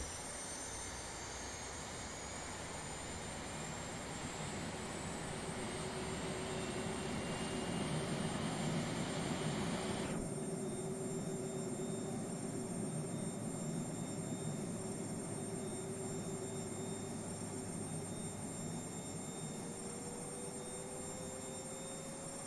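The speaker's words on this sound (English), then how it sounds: "engine number 2 is spooling" Jet engine of a Boeing 737 in the X-Plane 11 flight simulator spooling up during engine start: a steady, loud whine and roar with a rising tone that shifts abruptly midway, then holds evenly without talk.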